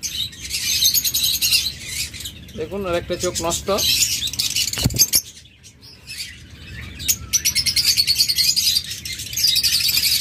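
A caged lovebird, blind in one eye, gives repeated bursts of shrill high chirps, loud and near, broken by someone talking in between.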